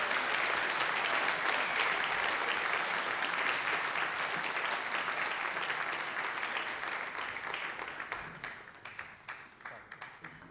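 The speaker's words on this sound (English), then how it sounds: "please give a big round of applause for Eugene Pettis" An award ceremony audience claps for Eugene Pettis, a full, even round of applause that carries on steadily, then tapers into a few scattered claps as it dies away.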